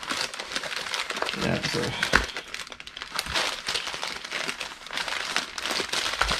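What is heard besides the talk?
folding and handling a cardboard shipping box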